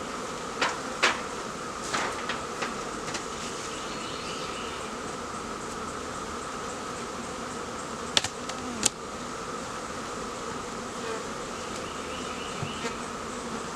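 Bees buzz in a dense, continuous drone around a hive during a swarm rescue, with a few sharp knocks and clicks from handling equipment breaking through.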